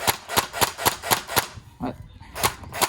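A CZ805 Bren gel blaster fires a rapid string of sharp, snappy shots, about six in quick rhythm, then a short pause and two more, close and clear with a faint voice.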